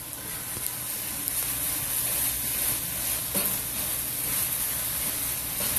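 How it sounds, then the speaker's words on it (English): Food sizzling and frying in a pan while being stirred, a steady close hiss with faint scraping of the spoon throughout and no talk. "One last stir."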